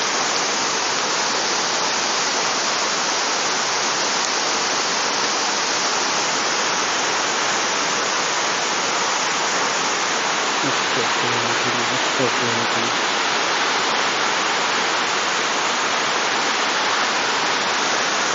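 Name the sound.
waterfall, cascading water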